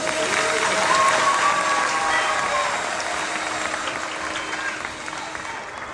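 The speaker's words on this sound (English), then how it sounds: "Round of applause, please." An audience at a live magic-versus-science stage show breaks into loud, sustained applause that gradually thins out toward the end, with a faint tonal whistle riding over the clapping early on.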